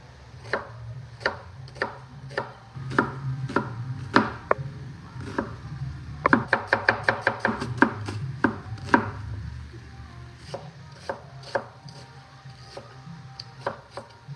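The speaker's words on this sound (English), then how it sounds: "I'm gonna do an onion, cut that in half." A knife cuts through an onion on a cutting board in sharp, close taps, first steady and spaced, then a quick rapid burst of chops before slowing again.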